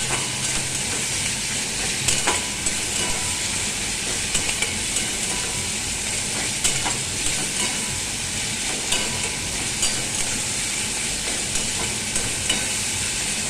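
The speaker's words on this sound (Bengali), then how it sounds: "দেখো পেঁয়াজটা একটু ভাজা ভাজা হয়ে এসছে" Chopped onions frying in a pan for an egg and poppy seed dish give a steady, close sizzle with faint scraping from stirring, continuous throughout with no talk.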